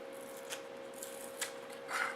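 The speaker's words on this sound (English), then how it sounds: "So I just trim this with a pair of scissors." Scissors trimming double-sided sticky tape while building a 1/14 scale RC trailer, a few brief quiet snips spaced apart, the last one slightly longer, over a faint steady hum.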